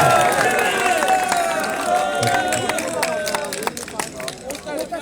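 A crowd applauds at a club event, steady loud clapping over a busy murmur of voices, with talk running through it.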